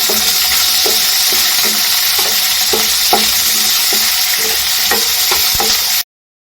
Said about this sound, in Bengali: রসুনটা ভেজে নেওয়ার পরে ওই একই তেলে আমি দিয়ে দিচ্ছি কুচি করে রাখা পেঁয়াজগুলো। পেঁয়াজগুলো ভেজে নেওয়া লাল করে।